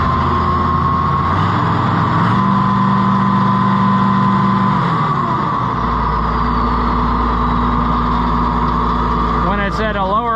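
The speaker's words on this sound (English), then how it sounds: "that back belt is flapping a little bit, I think." Allis-Chalmers 200 diesel tractor engine idling loudly close by, a steady low drone with a loose belt flapping, the pitch shifting midway as the revs change.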